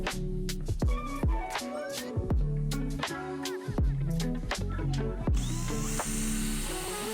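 A power drill boring holes into wooden dresser feet, with repeated short bursts and knocks, close and fairly loud, ending in a sustained whirring stretch, no talk.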